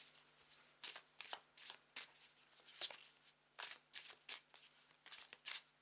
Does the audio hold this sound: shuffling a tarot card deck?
yes